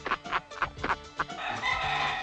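A rooster in a 1970s cockfighting film gives a run of sharp, rhythmic clucks, then a rising crow, close and clear with no talk.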